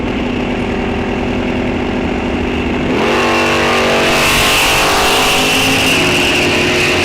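A Camaro at a dragstrip idles with a rough, pulsing rumble, then launches about three seconds in with a loud, rising rev that sweeps upward as it pulls away.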